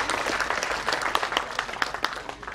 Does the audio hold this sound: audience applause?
yes